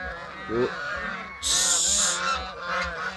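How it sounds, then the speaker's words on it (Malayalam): Geese on a large farm in Malappuram, kept alongside ducks, give loud, close honks, with one long braying call in the middle and a person talking quietly underneath. "ഇത് നിറയെ കൂസ് അതേപോലെ താറാവ് കാര്യങ്ങളൊക്കെ ഉണ്ട്"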